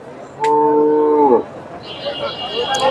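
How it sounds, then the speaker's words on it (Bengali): A pregnant cow at the Dhap cattle market in Bogura gives one loud, close moo lasting about a second, followed by softer market bustle with faint distant calls. "সুন্দর একটা গাভী"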